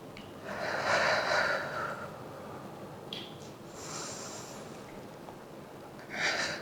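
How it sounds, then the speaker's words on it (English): Slow, deep belly breaths during a yoga flow, each long inhale and exhale soft and close, with a couple of breathy swells spread over a quiet room. "5 deep belly breaths here."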